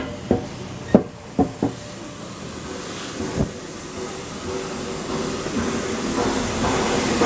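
Steam locomotive 60163 Tornado moves at Didcot Railway Centre, with a few sharp clanks and knocks early on over a steady, hissing rumble that grows slightly louder toward the end.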